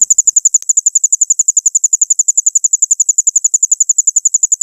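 Crickets chirp in a fast, perfectly regular pulse, loud and close against otherwise silent dusk surroundings, with no voices.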